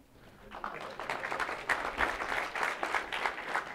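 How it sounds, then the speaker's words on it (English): A conference audience of designers claps in response to a call for applause, starting softly and swelling into loud, sustained clapping with sharp individual claps standing out. "Give yourselves a round of applause."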